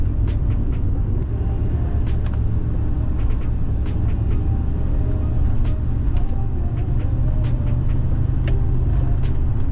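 A car driving through the town center of St. George, a steady loud engine and road rumble running without break and close to the listener, with no talk.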